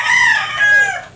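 A four-time-winning broodcock gamecock, a Larry Romero Gray almost four years old, crows loudly and close by. One sustained, drawn-out call runs alone with no talk over it.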